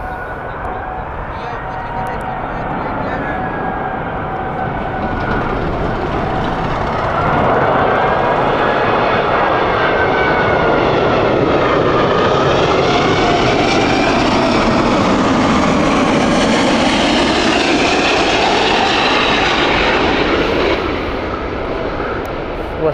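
A large jet airliner landing at Heathrow roars down the full length of the runway, its engine noise swelling to a loud rumbling peak and then easing off.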